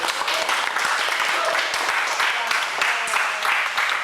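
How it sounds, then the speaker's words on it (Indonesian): An audience at a makeup and beauty workshop bursts into applause, a dense, steady wash of many hands clapping close by for about four seconds with no pauses. "Tepuk tangan buat kalian."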